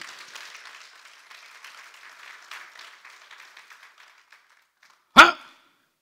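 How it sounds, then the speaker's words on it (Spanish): A church congregation applauds with a soft, scattered patter of clapping that thins out and fades over several seconds, followed by a single sharp loud knock or bang. "Que le dan un aplauso al Señor por eso, hermano."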